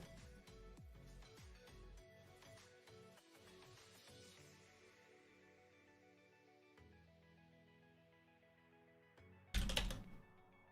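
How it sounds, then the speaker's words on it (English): Faint, steady keystrokes tap on a computer keyboard while notes are typed, set against a tonal background hum, with a sharper clatter of keys near the end. "typing some notes really quick."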